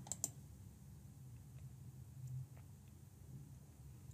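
A mouse click on a web page button, a couple of sharp, quiet clicks near the start over a low hum of room noise, with faint scattered ticks after.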